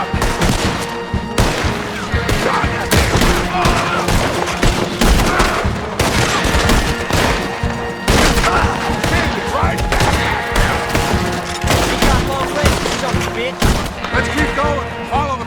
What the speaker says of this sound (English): More on the left. Shoot, Arthur.